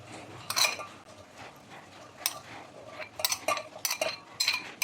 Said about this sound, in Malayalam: അപ്പോൾ അരിഞ്ഞു വെച്ച സാധനങ്ങളെല്ലാം വേറൊരു പാത്രത്തേക്ക് മാറ്റുകയാണ് കേട്ടോ